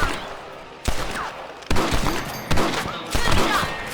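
Gunfire in Red Dead Redemption, with four loud, sharp rifle shots spaced about a second apart, each trailing into a rumbling echo over a steady outdoor background.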